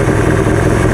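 A 1984 Ford LTD Crown Victoria engine idling steadily around 750 rpm, a loud, slightly shaky continuous rumble heard up close with no pauses.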